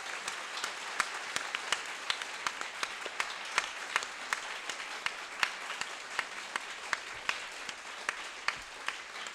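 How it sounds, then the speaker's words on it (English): Steady applause from an audience at a bookstore café author event, sustained dense clapping that continues throughout without pause. "So would you please end with a round of applause for Sarah Smarsh."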